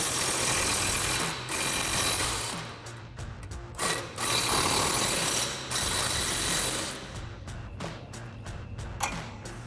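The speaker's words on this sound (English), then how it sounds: "We're gonna take a 21 millimeter wrench and our impact and 21 millimeter socket and take that off." An impact wrench fitted with a 21 mm socket works loose a lower shock mount bolt on a RAM 1500 pickup, giving a loud, continuous mechanical rattle and buzz with a few short breaks, close and alone with no voices.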